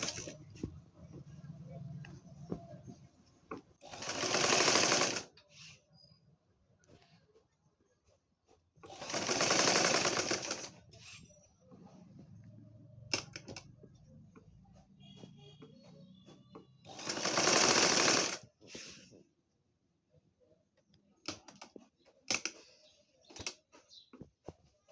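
A sewing machine gathers baby frock fabric in three loud, steady bursts of several seconds each, separated by quieter stretches of fabric handling and soft shuffling.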